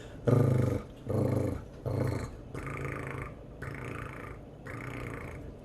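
A voice makes a series of rolling, purring trills, three short bursts then three longer ones, imitating a cat's purr to demonstrate the Spanish rolled double R.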